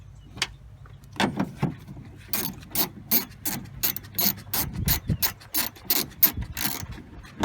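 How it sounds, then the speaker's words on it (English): A ratchet tightening bolts on a disassembled Toyota Tundra car door, with a long run of quick, sharp clicking strokes in uneven bursts, close and clear with no talk. "I'm gonna tighten all these bolts now."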